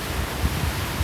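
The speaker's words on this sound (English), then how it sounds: "river going underneath the road." Loud raging river rushes steadily under a road near Elwood Pass, Colorado, a dense churning wash with low rumbling surges and no voices.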